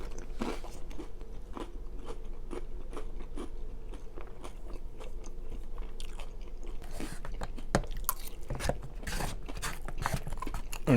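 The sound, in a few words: chewing crunchy chips, Frito pie and chili cheese dogs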